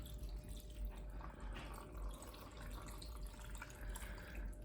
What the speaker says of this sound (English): going to take our apple juice and I'm going to put it in my blender and blend